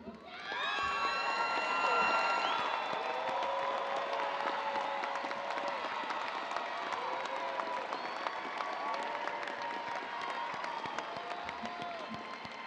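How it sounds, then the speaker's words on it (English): A graduation audience at a fall university commencement ceremony applauds and cheers in a sustained, loud wave of clapping, with scattered whoops and shouts rising early and then settling into steady applause throughout. "join me in applauding those who helped you earn your degree."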